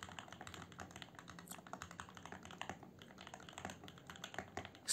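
Rapid, continuous mechanical keyboard typing, dense clacky keystrokes close up with a sharper louder hit at the very end, no voices.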